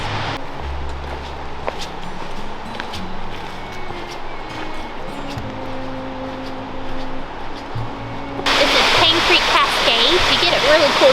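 Piney Creek Falls in Fall Creek Falls State Park, a waterfall roaring as a steady broadband rush that swells louder toward the end, with low rumbles and voices mixed in beneath.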